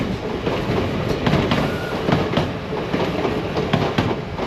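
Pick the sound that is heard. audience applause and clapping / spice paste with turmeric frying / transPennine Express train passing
transPennine Express train passing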